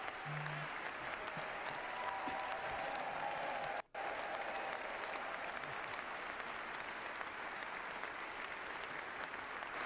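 A large audience gives a standing ovation at a presidential inauguration, with sustained dense applause throughout, heard from a distance with a brief dropout midway.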